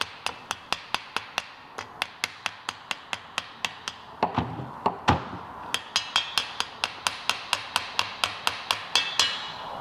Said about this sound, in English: we'll tap that all the way home with a little 10 millimeter socket